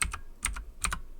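Quick keystrokes on a computer keyboard, heard up close as three pairs of crisp clicks in a steady rhythm, with no voices.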